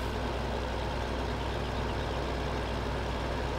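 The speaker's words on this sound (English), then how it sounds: "Come on, tractor, you can make it up the hill." Tractor engine in the video game Farming Simulator 15 labouring up a hill, a steady low droning rumble held at an even level with no talk, fairly faint.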